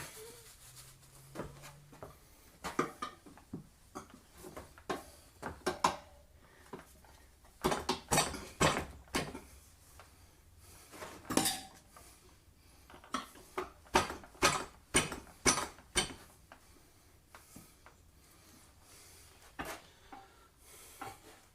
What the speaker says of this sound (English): Hard to get that tire spoon down in there where it needs to go.